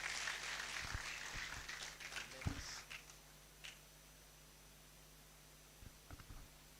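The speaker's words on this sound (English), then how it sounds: "Please, let's welcome him with a round of applause." Applause from an audience welcoming a university Pro-Vice Chancellor at a white coat ceremony, fading after a few seconds into a quiet hall with scattered rustles and bumps.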